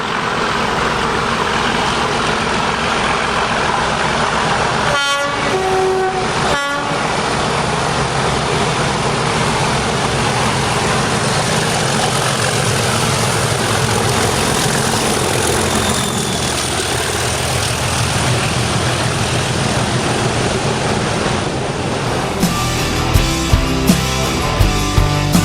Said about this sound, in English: 37602 and 610 with this northbound intermodal at Stafford.